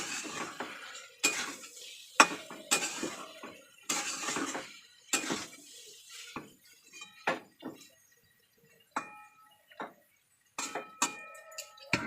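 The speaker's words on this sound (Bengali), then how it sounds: "এগুলোকে আমি ভালো করে খুন্তির মাথা দিয়ে কেটে দেবো" A spatula tip chops through lumps of fried mixture in a metal cooking pan, with repeated sharp scrapes and clinks in irregular bursts and short pauses, close and clear with no talking.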